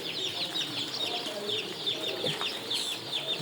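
Sonali chickens cluck and chatter steadily throughout, a dense flock of birds heard close by with no talking over them.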